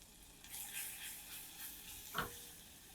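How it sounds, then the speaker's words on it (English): Flour being worked into melted butter in a pan to make a roux for velouté, a soft, steady sizzle with scraping stir strokes and one sharper scrape near the end. "simply incorporate that flour into the butter"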